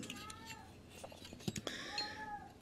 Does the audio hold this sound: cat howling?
yes